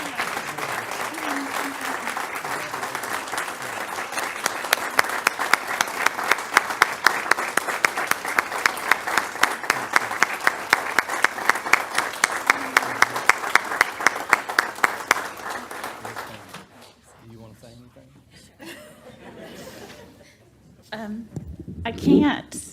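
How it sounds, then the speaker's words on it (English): A standing audience at a Board of Education meeting claps loudly, settling into rhythmic unified clapping for about fifteen seconds before it fades into quiet murmuring and a few sounds of people moving. "Let's stand to give Wendy a round of applause, please."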